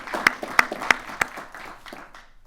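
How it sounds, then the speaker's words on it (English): A short burst of applause honoring law enforcement at a city State of the City address in Antioch: a few sharp, distinct claps ring out near and loud, then thin out and fade. "please offer our men and women in law enforcement a round of applause"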